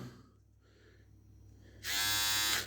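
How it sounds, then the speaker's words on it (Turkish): A budget Well Power rechargeable electric shaver switches on after a quiet moment and buzzes loudly and steadily for about a second, close by. "Aldığımız tıraş makinesi"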